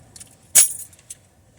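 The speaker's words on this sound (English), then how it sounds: "I keep my keys, my house keys and my car keys and whatever, in this little kookaroo." House and car keys kept in a small pouch give one sharp metallic jingle, close and bright, followed by a few faint scattered clinks as they settle, with no speech.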